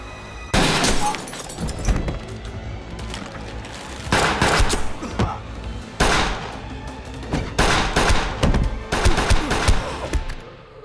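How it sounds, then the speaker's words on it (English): Loud bursts of gunfire from a movie shootout, rapid automatic volleys and heavy booms arriving in several clusters, with a dense, roaring crash between shots and no voices. "Shootout breaks out."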